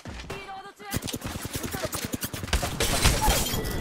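An EVA shotgun fires in a video game shooter, a rapid string of loud blasts and cracks over game effects, close and busy, with some clatter near the start.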